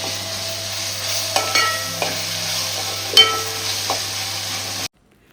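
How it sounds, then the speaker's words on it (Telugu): Onion, chilli, tomato and ginger paste fry in a pan, a constant soft sizzle broken by a few sharp spoon knocks and stirring scrapes, then sudden silence near the end. "అల్లం పేస్ట్ కూడా పచ్చివాసన పోయేంత వరకు ఫ్రై అవ్వనివ్వండి."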